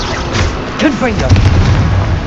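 Confringo explosive spell fired in Hogwarts Legacy bursts into loud, rumbling booms amid game battle noise, while a voice shouts over it.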